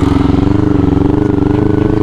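A motorcycle engine revs loudly and steadily up close as riders set off on a Sunday-morning group ride, a continuous throbbing drone throughout.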